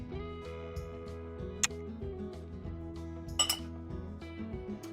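A spoon stirs black-eyed peas in a cooking pot, giving a few scattered metallic clinks against the pot over a steady low hum, with no talking.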